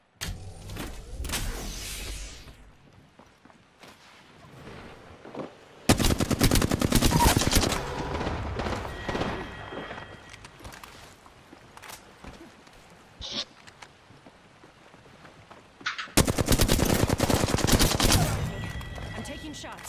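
Gunfire from Apex Legends comes in two loud bursts of rapid shots, with quieter scattered game effects and background sound in the gaps between them.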